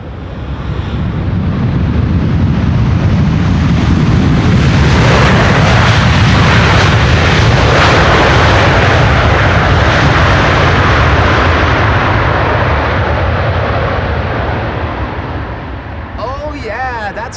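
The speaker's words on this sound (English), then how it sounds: "Reversers being deployed there." An Airbus A340 airliner lands at Amsterdam Schiphol in windy conditions, its thrust reversers bursting into a loud, close, sustained roar that swells and then slowly fades as the aircraft slows.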